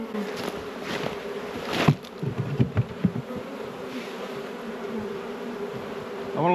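Bees buzz steadily around an opened hive during a hive check, a continuous close drone with a few louder passes and handling thumps near the middle.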